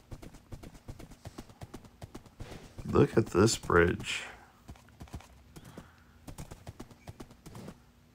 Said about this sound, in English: I can get to most people with just a short horse ride